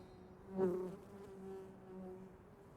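A bee buzzes in a scene from Squid Game season 2, one faint rising and fading drone over a low, steady background hum.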